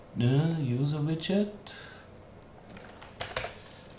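A person speaks briefly, then clatters on a computer keyboard while setting up widgets in software. The light key clicks come in short irregular bursts, close and clear.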